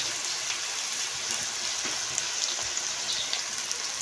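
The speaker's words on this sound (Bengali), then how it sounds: "তো সেদ্ধ হয়ে গেছে, এখন ভেজে নেব।" Fish coated in turmeric and salt frying in oil, giving a steady, dense sizzle with faint crackles throughout, close and fairly quiet, with no talking.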